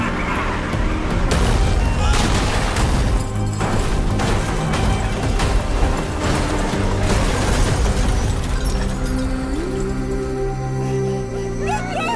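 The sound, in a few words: gunshot in a film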